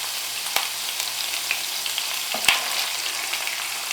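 Ginger garlic paste with tomato paste sizzling and frying in a pan, a steady close crackle with a few sharp stirring clinks and scrapes, no talking.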